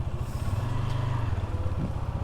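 A new motorcycle in its break-in period is ridden slowly through a turn, its engine giving a low, steady close-up drone that rises slightly midway and then settles.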